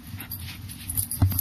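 A dog whimpers and yips softly up close, with a sharper little sound near the end over faint room noise.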